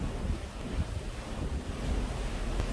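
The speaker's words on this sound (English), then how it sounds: "almost all I hear is the sea, which is much stronger than the engine noise" Steady roar of open sea waves washing continuously against a ship heading for Alaska, broad and rushing, with a faint low engine hum underneath and no voices.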